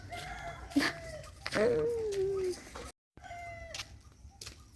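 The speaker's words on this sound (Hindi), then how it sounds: "बगल वाले घर से मुर्गी की आवाज़ आ रही है" A chicken clucks a few times from a neighbouring house, faint against outdoor background noise, with a brief break before quieter ambient sound resumes.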